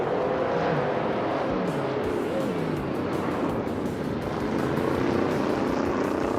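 Race cars launching off the line at Boud International Circuit in a video game race, with a dense, continuous engine roar and rising revs, loud and sustained throughout.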